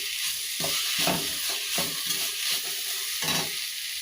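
An amla rice mixture with grated fresh coconut is stirred in a pan, making a run of close, regular scraping strokes over a soft, steady sizzle.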